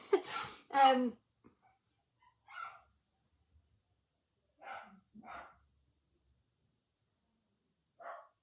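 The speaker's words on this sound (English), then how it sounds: "He's just barking at somebody going past." A dog barks several times in short bursts, some close together and others spaced apart, with quiet pauses between and a brief voice at the start.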